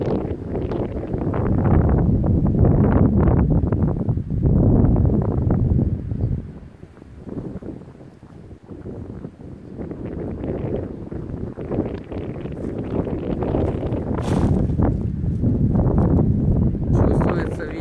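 Strong wind buffets the microphone outdoors during a racing pigeon training release, a loud, continuous rumbling roar that dips briefly midway, with someone talking intermittently under it.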